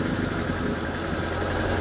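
A 1994 Daihatsu Zebra minibus engine runs at a steady idle, a dense, continuous rumble with constant vibration and no gaps, close and fairly loud throughout.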